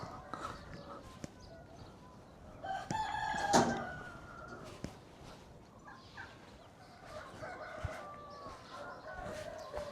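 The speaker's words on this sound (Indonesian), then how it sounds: "Ayam-ayam pada berjemur." A rooster crows among clucking chickens in a Moldovan village in early spring, one loud crow standing out over faint outdoor background noise, with occasional soft clucks.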